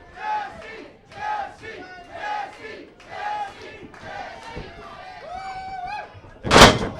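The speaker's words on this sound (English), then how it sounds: "There's a crowd here in Oshawa behind Jesse Amato, it seems" A wrestling crowd in Oshawa chants and cheers in rhythmic waves, loud and roomy, ending with a sharp slam-like impact.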